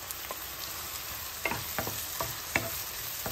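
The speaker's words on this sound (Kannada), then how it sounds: "ಸ್ವಲ್ಪ ಹಸಿ ವಾಸನೆ ಹೋಗೋವರೆಗೂ ಫ್ರೈ ಮಾಡ್ತಾ ಇದ್ದೀನಿ" Masala for tomato palya fries quietly in a pan with a soft, continuous sizzle, broken by several sharp scraping strokes of a spoon stirring it.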